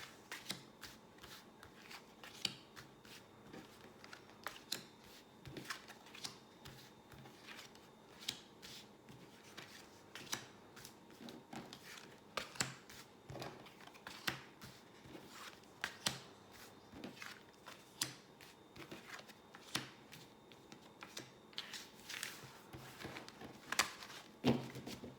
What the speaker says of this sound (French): Tirage de 13 cartes.